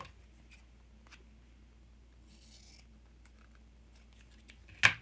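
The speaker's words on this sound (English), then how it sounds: "let's cut up some of this cheesecloth" Scissors snip cheesecloth in a quiet room, with a few faint cuts and rustles, then a sharper closer cut just before the end.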